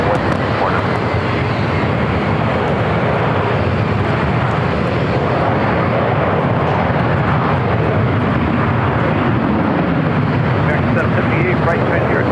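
An airliner takes off from runway 25 right at LAX airport: a loud, steady jet-engine roar that holds strong and close for the whole stretch without letting up.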